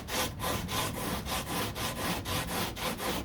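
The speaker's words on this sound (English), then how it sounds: "I'm just going to kind of smooth it down as much as I can with the hard block in the areas" A hard sanding block is rubbed by hand over body filler on the passenger door of a 1969 C3 Corvette, giving a loud, close, rhythmic rasping scrape of regular back-and-forth strokes, roughly three per second.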